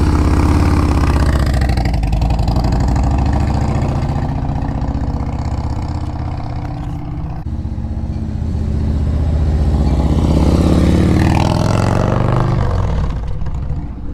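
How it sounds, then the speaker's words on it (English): 2023 Harley-Davidson Highway King motorcycle rumbles past with a deep, loud engine note, swelling as it approaches, easing slightly mid-pass, then surging again as it revs away. "That bike sounds so good."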